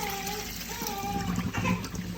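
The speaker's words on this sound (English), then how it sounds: "And we're just going to drain the water off." Water drained from a pot pours and splashes steadily into a sink, a continuous watery rush with some clattering, fairly close.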